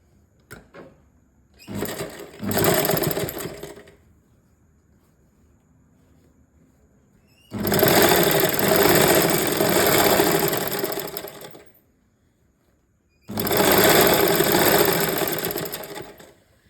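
A sewing machine stitches a kids' box pleat skirt in three bursts, a short one early, then two longer runs, each a loud rapid mechanical whir separated by quiet pauses.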